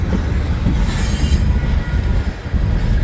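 Freight train at a railroad crossing with FEC, UP and BNSF locomotives: loud close rumble of rolling cars, a brief high wheel squeal, and a steady rhythmic clatter throughout.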